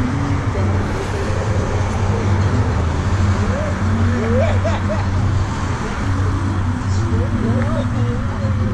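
Road traffic with trucks rolling past, a steady low rumble of engines and tyres that swells and holds throughout, with people talking over it.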